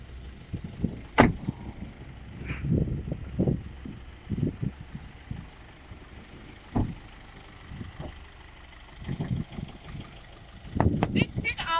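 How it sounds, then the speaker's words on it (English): A Foton F8 pickup truck with a Cummins engine, heard as a low idle under a series of short thumps and clunks, likely doors and handling of the vehicle, with people talking nearby at moderate volume. "This pickup car engine technology is Cummins. It's Cummins engine."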